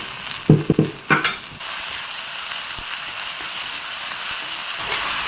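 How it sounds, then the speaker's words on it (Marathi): A few sharp scraping stirs in a dry pan at the start, then a soft steady hiss of mung beans dry-roasting with occasional light taps. "आता हे मूग आहेत, हे मी भाजून घेणार आहे"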